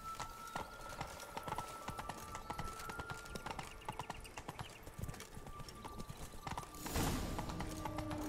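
Roach, Geralt's horse in The Witcher 3, galloping with steady rhythmic hoofbeats close by, ending in a louder rush of movement and a brief whinny-like sound.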